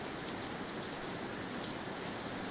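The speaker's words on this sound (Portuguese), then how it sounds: "Agora eu tirei ele, tá muito alta a chuva." Heavy rain pours down steadily on a surface, a dense continuous hiss with no pauses and no voices.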